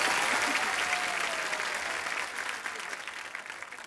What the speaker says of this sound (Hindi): इलियाना के लिए जोरदार तालियां